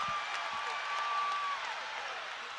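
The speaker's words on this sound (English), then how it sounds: "listen to this crowd" Crowd noise inside a basketball arena during a USC vs Loyola Marymount college exhibition game, a sustained roar of cheering and clapping filling the space throughout.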